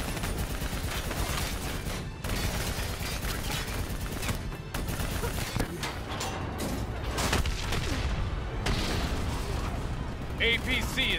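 Steady, dense gunfire aimed at a VTOL aircraft in Call of Duty: Black Ops III, sustained bursts amid explosions and mechanical battle noise, with voices talking over the continuous fight.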